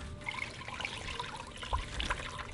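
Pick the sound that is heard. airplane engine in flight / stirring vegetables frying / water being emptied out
water being emptied out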